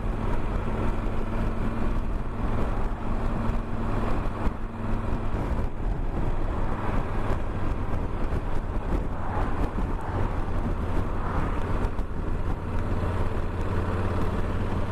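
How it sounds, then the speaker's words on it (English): A Yamaha Super Tenere 1200Z parallel-twin motorcycle engine hums steadily while riding, a smooth low drone under heavy wind rush across the microphone, with no speech. "Quite impressed with the smoothness of the engine"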